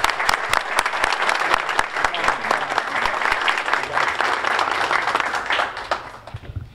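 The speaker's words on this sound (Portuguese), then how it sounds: "Uma salva de palmas" Applause from an audience at a public ceremony in Itajubá for a minibus handover, dense steady clapping sustained throughout at close range and thinning slightly at the end.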